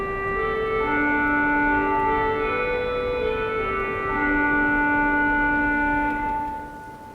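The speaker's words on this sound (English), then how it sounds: "is the imitation of an orchestral clarinet" A pipe organ stop voicing an orchestral clarinet on the Grand Organ of St Paul's Cathedral plays a sustained, reedy melodic line over held chords, steady and fairly loud, with each note ringing into the cathedral's long reverberation before fading.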